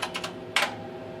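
A few quick keystrokes on a Tektronix 4051 computer keyboard, close and crisp, with a light cluster of taps followed by one firmer press in a quiet room.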